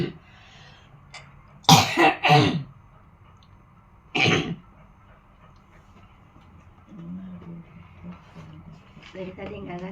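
Several sharp coughs burst out near the mic, two close together then a single one, against a quiet room with a low hum and faint speech toward the end.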